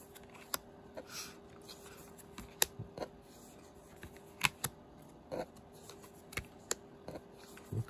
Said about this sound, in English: get these pretty well mixed in my overhand shuffling